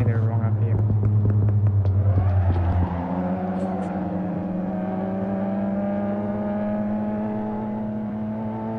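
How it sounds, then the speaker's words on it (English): Toyota GR86 engine in Assetto Corsa at Monza, a close, steady droning tone that shifts to a lower and then higher held pitch, with a voice speaking over it early on. "I keep revving it too far"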